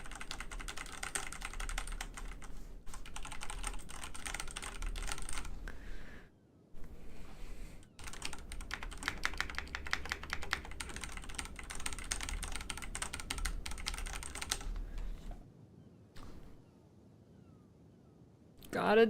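Rapid clattering keystrokes on a Ducky mechanical computer keyboard, close and steady in long bursts with brief pauses, while someone talks over the typing now and then.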